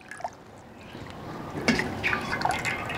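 Cooked freshwater algae is strained, with water dripping and trickling in scattered close drops and small pours that grow busier and louder toward the end, no talk over it.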